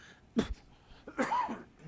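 A single short cough, then a second throaty cough or throat-clearing a moment later, close and fairly quiet, during a city council meeting.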